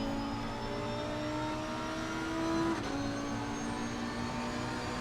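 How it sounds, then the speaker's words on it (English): McLaren GT3 race car engine at Bathurst in the Assetto Corsa Competizione racing game, a sustained steady high engine drone held at speed with a brief pitch shift midway, no talk. "But look at the McLaren go."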